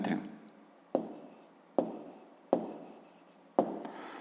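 A pen or pencil scratches on paper in five short, evenly spaced strokes, each a sharp onset fading away, while a math figure is drawn; close and fairly quiet.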